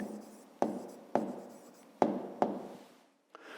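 A pen writes an answer by hand on paper, heard as a series of close, soft scratching strokes, each starting sharply and trailing off, with a short pause near the end.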